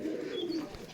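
An old black-faced white pigeon gives a soft, low coo that runs unbroken for about a second, fairly faint and close.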